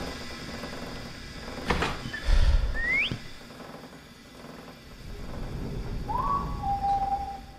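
Statues whistling in the video game The Lost Ship: two short rising and gliding whistles, faint to moderate, set over a low ambient rumble with a brief thud between them.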